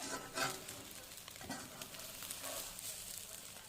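Steady sizzling of an omelet frying in a pan, a continuous crackle with occasional scraping of a utensil, heard close.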